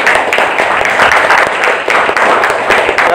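An audience applauding a group after a classroom presentation, dense, steady clapping from many hands filling the room for the whole stretch, loud and close.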